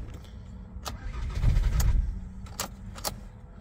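A Jaguar X-Type 2.0D diesel cranks on a jump starter on a cold morning around +5°C, with sharp clicks and key rattles before a brief low engine churn swells and settles.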